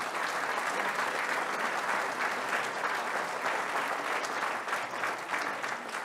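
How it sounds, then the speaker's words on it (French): A crowd applauds at a mayor's New Year address in Port Saint Louis du Rhône, an even, sustained roar of clapping from many hands lasting about six seconds without talk. "vous pouvez les applaudir"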